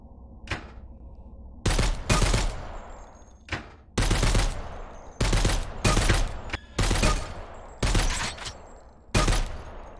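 Gunfire in the VR shooter Dead Groundz: several loud bursts of rapid shots, some single cracks and some sustained volleys, separated by short pauses, close and dominant with no talking.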